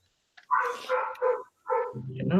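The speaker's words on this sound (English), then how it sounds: "Don't you love the dogs barking?" Dogs bark in a few quick, close yips and woofs, followed by a low mechanical hum at the end.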